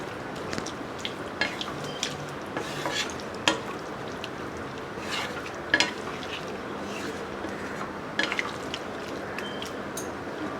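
A beet and carrot curry with added water is stirred in a pan, soft bubbling and simmering beneath a few distinct metallic clinks and scrapes of the spoon against the pan, close and fairly quiet.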